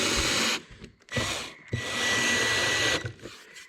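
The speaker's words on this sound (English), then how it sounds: "I was just using a drill. It ended up being a lot faster." Cordless power drill driving screws on a Chevy Trailblazer during DIY maintenance, heard as three sustained whirring bursts broken by short pauses, close and fairly loud with no talk.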